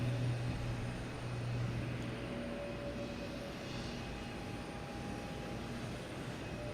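A JetBlue airliner at Boston Logan Airport gives a steady, broad jet roar from a moderate distance, holding an even level with no voices over it.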